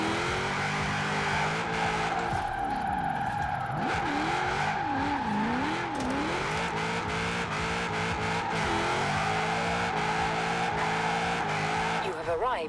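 A 1000 HP Holden Commodore Group A drift build in Forza Horizon 4 screams at high revs while its tires squeal through sustained slides, loud and unbroken, with engine pitch swooping up and down.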